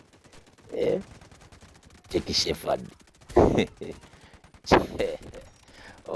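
Gunfire rings out in a Batman video game, with rapid bursts of shots that come in several separate volleys between stretches of someone talking over the game sound.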